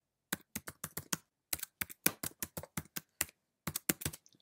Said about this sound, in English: Hopefully I typed that correctly.